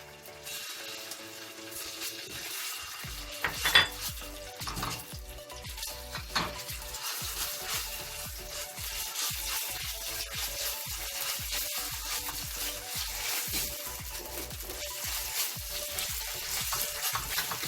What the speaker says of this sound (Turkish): Şöyle kokusu çıkana kadar kavuruyorum.